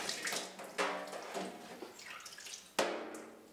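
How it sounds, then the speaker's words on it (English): Running water from a tap splashes over cucumber seeds in a sieve, a close, bright rushing spray with a couple of sharper splashes as the flow shifts. "You should then clean the seeds under running water using a sieve"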